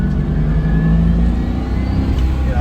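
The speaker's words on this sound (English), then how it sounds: "if I jab the throttle" A C4 Corvette engine revs loud and close as the throttle is jabbed, a steady low roar with rising tones that holds for under three seconds.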